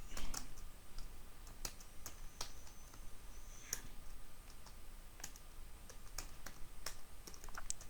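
Code being typed on a computer keyboard, a steady run of crisp key clicks with irregular rhythm and occasional louder taps, close and alone throughout.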